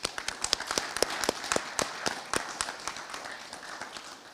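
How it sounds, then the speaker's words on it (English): An audience at an Army ROTC commissioning ceremony claps in uneven, scattered bursts, the applause starting strong and gradually thinning into sparse claps, heard from a moderate distance. "Give yourselves applause for helping these young folks get to where they are today."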